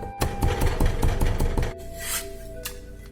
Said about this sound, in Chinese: 再剁点蒜泥。